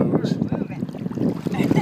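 Small 25 horsepower motorboat running on open water off a North Carolina beach, a steady low engine drone mixed with wind buffeting the microphone and rushing water.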